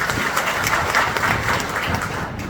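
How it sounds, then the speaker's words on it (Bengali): Audience applause at a 2004-batch school reunion, honouring the teachers: dense, steady clapping from a crowd that holds at an even level throughout. "সেজন্য আমরা স্যার সহ যে সকল স্যার আছে তাদের সবার জন্য একটা করতালি দিব আমরা।"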